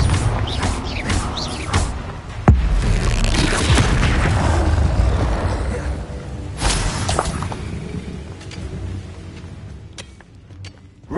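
A Confringo fire spell blasting in Hogwarts Legacy: a loud booming impact with creaks, thuds and mechanical rumbling that rolls on for several seconds, then a second sharp crack and slowly fading debris, no voices.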